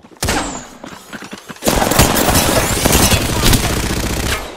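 Rapid automatic gunfire rings out in an Apex Legends match: a short opening burst, a brief lull, then a long, loud, sustained volley of close shots with booming echoes.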